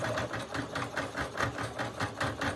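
A single-needle embroidery machine stitching a patch, a fast steady rhythmic chatter of needle strokes with a low mechanical hum, close and continuous.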